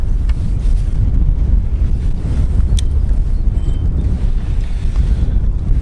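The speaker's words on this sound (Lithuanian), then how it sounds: "Labai stiprus vėjas priešinis," Strong headwind buffets the microphone on a fishing boat, a loud, continuous low roar of wind rumble with faint water noise beneath and no voices.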